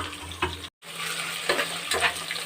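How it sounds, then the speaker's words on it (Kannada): Onions fry over high flame in a pan for donne biryani, a steady close sizzle broken by a few stirring scrapes and one short dropout, with no talking. "ಈರುಳ್ಳಿ ಹಾಕುವಾಗ ಈರುಳ್ಳಿನ ಕೂಡ ಚೆನ್ನಾಗಿ ಫ್ರೈ ಮಾಡ್ಕೊಳ್ಬೇಕು"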